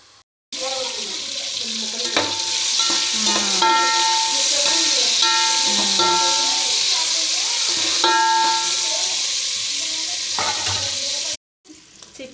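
Sliced onions fry in a pan for chicken biryani, giving a loud, steady sizzle with crackling pops. Stirring clinks sound now and then throughout.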